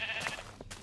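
A video game sheep gives a short, faint bleat over a soft background hum, heard alone without speech.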